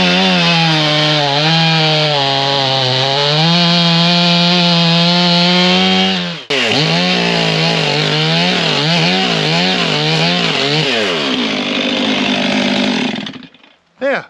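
A chainsaw with a dulling chain bucks hardwood into firewood at a woodyard: a loud, close engine whine holds steady under load, drops out briefly mid-cut, then returns with wavering revs before cutting off, followed by a short final burst.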